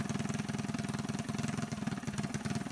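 A Predator 224 mini bike engine fitted with a VM22 Mikuni clone carburetor idles low and close, giving a steady, rapid chugging pulse that stays even throughout, with no talk over it.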